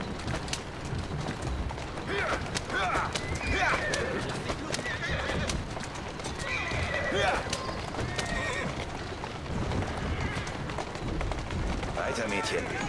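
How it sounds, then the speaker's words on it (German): A horse-drawn carriage driven through Victorian London in Assassin's Creed Syndicate, with steady clip-clopping hooves, rolling wheels and occasional horse whinnies under continuous talking by a player. "Die Kutsche, die ich gerade fahre, ist eine Katastrophe."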